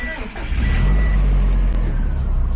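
A Subaru STI engine running just after startup, a loud, steady low idle rumble with a brief rise in revs, filling the whole moment close to the car.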